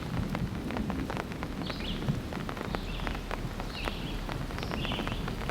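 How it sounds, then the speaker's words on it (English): Steady rain with a low, distant rumble of thunder rolling underneath, and a few birds chirping faintly in the background. "Thunder, everybody."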